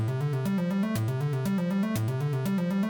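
A Moog modular synthesizer plays a repeating pitched pattern with its noise source turned up, giving a loud, steady, buzzy texture that carries through continuously with regular note changes.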